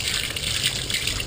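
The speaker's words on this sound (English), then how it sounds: "Rinsing now." Water gushes steadily while a cat is rinsed during a bath, a close, continuous splashing pour with no pauses.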